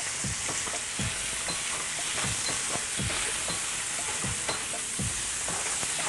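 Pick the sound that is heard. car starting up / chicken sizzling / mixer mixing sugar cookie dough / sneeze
chicken sizzling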